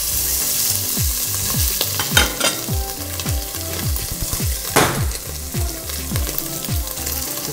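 Carrots and bacon fry in a pan with chopped garlic, making a loud, continuous sizzle with repeated stirring scrapes and clatter throughout.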